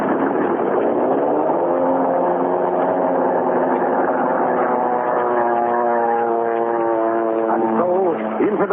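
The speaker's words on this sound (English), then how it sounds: "Into the night roars a plane piloted by a lone man" A propeller airplane engine drones steadily through the night in flight, loud and continuous, with dramatic orchestral music swelling over it and no voices.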